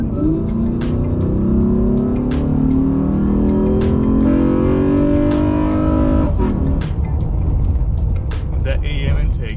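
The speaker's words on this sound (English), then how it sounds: "The only time you actually hear it is when you step on that throttle, and that's when things get interesting." Honda Ridgeline pickup fitted with an AEM intake accelerating under throttle, a loud sustained engine roar with rising and shifting pitch, regular sharp clicks or ticks throughout, and a drop in tone partway through.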